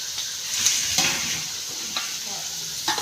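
Tomatoes sizzle and fry steadily in a pan for a large batch of palya, with a few sharper hisses as they are stirred, close and continuous with no talking.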